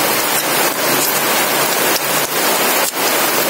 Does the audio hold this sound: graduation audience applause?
no